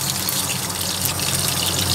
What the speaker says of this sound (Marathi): पाणी होतं म्हणून सर्र आवाज येते